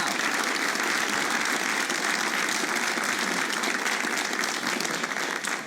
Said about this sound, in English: there's a wholesome round of applause.